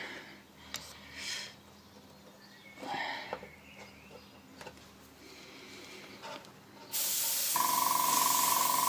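An aerosol spray paint can lays a thin coat on a PECO model railway wagon kit: a loud, steady, close hiss starts abruptly after a few seconds of quieter handling noises and runs to the end.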